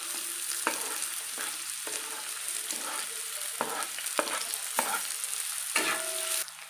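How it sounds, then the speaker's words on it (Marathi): Onion frying in hot oil on a gas stove, a steady bright sizzle with repeated stirring scrapes and clinks, close and alone. "तेल तापलेलं आहे मी कांदा टाकून घेते"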